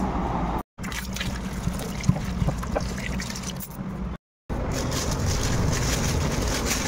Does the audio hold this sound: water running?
yes